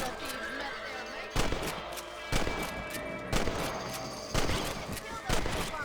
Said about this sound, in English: Get your rifle out. It's about time these little thieves met their mate.